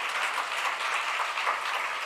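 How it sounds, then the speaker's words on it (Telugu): A church congregation claps loudly and continuously in a dense, even wash of applause, with no voices heard over it. "ఓసారి గట్టిగా చప్పట్లు కొడదాం"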